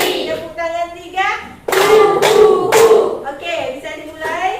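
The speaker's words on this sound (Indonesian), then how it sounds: "Tepuk tangan 1, ha. Tepuk tangan 2, hi. Tepuk tangan 3," A classroom of students claps hands together in a counting ice-breaker game, with a burst of loud, close, sharp claps in the middle, framed by a teacher's voice and children's chanting before and after.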